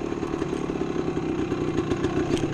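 A 1975 Yamaha DT250 two-stroke motorcycle engine runs steadily at the foot of a wooded hill climb, a loud close buzzing drone with rattly clatter throughout.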